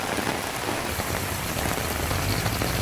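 Steady rain falls in Bengaluru, a continuous even hiss of drops on the ground with a low rumble beneath and no voices.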